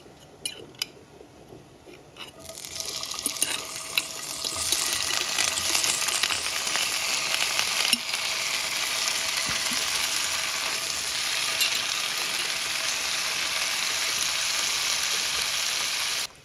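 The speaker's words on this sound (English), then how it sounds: "I'm gonna let them just fry away in this lard for a while before I touch them or stir them or anything" Canned pre-cooked potatoes frying in lard in a hot pan, a steady, moderately loud sizzle with a few light clicks at the start, continuing alone without talk.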